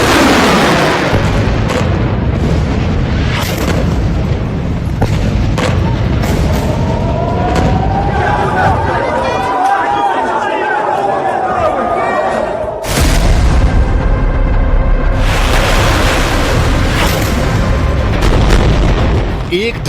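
Loud explosion and boom effects in a news report on possible chemical weapons in the Israel–Hamas war, dense rumbling blasts and bursts throughout with a lull midway, layered over background music.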